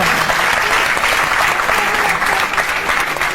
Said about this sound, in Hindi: तो अपनी तालियां आप जारी रखिए गुरु के लिए